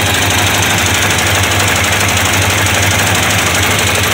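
A 1985 Buick LeSabre hearse with a 307 cubic-inch V8 idles through true dual exhaust with Flowtech Afterburner mufflers, giving a steady, loud, close-up rumble with a constant low throb and no voices.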